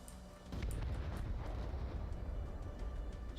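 Explosions and gunfire in a real-time strategy battle, a sudden heavy boom then a sustained loud rumbling roar with scattered bursts, echoing across the field with no talk.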